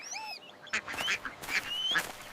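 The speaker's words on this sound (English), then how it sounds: "Quack, quack, quack, quack, quack." Cartoonish duck quacks from a children's nursery rhyme about five little ducks, several bright nasal quacks in quick succession after a short chirpy whistle, clear and close.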